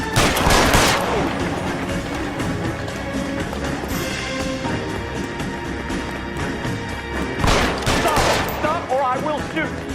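Gunfire rings out during a tense standoff in the video game L.A. Noire. Loud, sharp bursts open the scene and come back near the end, with steady background sound humming between them.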